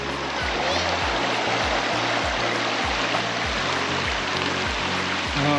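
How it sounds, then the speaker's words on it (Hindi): A steady, close rush of flowing river water, continuous and full, with a faint murmur of voices in the background. "ये है रिवर"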